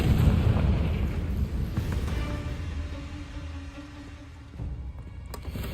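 Confringo blasting spell in Hogwarts Legacy detonates with a loud, rumbling boom at the start and slowly fades, followed later by a smaller secondary burst.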